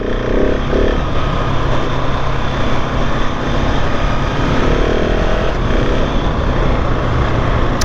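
A KTM 690 SMC-R supermoto with ABS is ridden on a windy day, its single-cylinder engine a steady, loud drone mixed with constant wind rush throughout.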